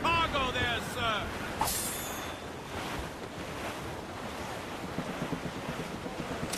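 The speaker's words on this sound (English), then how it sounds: "It's quite a rough squall" Wind and surging waves of a rough squall at sea in the game Assassin's Creed Rogue, a broad, steady roar with rhythmic wash, and a voice speaking over it near the start.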